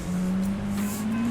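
Lamborghini Aventador tuned to 1200 BHP in Forza Horizon 4, its engine holding a steady, loud droning tone that climbs slightly in pitch as it revs, with no talking.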